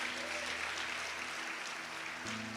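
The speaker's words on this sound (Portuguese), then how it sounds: "Aplauda mesmo, para Ele." Church congregation applauding during a sermon, a dense, even wash of clapping held at steady moderate loudness throughout, with a low hum beneath.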